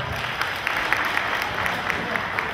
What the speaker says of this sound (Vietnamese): Xin quý vị cho chúng tôi một tràng vỗ tay ạ.